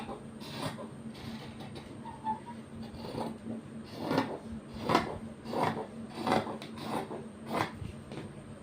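Scissors cut fabric for a nighty, a series of soft crunching snips and rustles arriving in irregular bursts, close and quiet with no talking.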